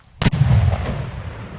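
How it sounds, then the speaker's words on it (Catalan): A small controlled explosive charge goes off at the foot of a mountain near the Segària caves: a single sharp, loud blast followed by a rumbling echo that slowly fades. "detonarem una xicoteta càrrega controlada d'explosiu per advertir als possibles animals"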